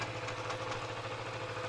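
Motorcycle engine idling while still in gear, a low steady mechanical hum with a faint rhythmic throb, quiet and continuous with no talking.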